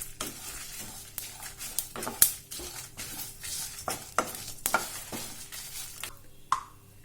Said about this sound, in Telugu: ఆయిల్ యాడ్ చేసుకొని ఇంకా కొంచెం సేపు ఫ్రై చేసుకోవాలి.